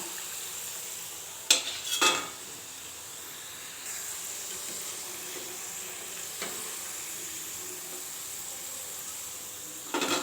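Potato snacks fry in hot oil in a pan with a steady, soft sizzle and hiss throughout, broken by a few sharp clinks of a utensil against the pan, close and fairly quiet.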